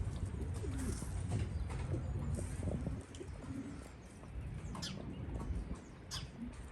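Syrian Damascene pigeons kept in Berlin, Germany coo softly and repeatedly at close range, with occasional chirps and brief squawks over a low background murmur.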